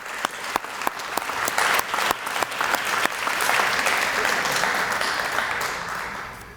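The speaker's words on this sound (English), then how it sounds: "Let's give her a round of applause." Audience applause at a school district address, a steady swell of many hands clapping in a large room, building in the middle and fading slightly at the end, with no talk over it.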